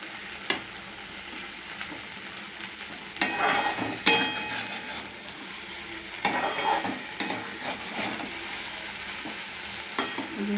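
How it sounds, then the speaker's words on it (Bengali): Onions gently frying on low heat in a pan for a dum-style taro dish, giving a soft steady sizzle with occasional stirring scrapes and clinks; no talking. "পেঁয়াজগুলো আর 2 মিনিট একদম সিমে একটু ভেজে নেব।"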